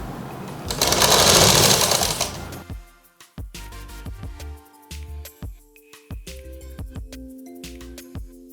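A sewing machine stitching a girl's frock suit: a loud burst of steady rapid whirring stitching, then a series of short stop-start runs with mechanical clicks and handling knocks, close by.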